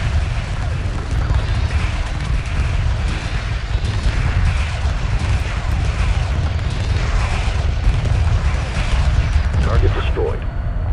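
Ship explosions in a Homeworld Remastered space battle, rumbling booms and bursts piling up in a continuous loud low roar, with a voice talking over them.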